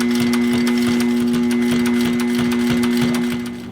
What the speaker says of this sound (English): we'll head over to the big girl sewing machine and sew that on.